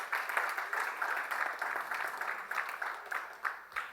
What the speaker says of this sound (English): Let's have another round of applause for all of our awesome hackers this weekend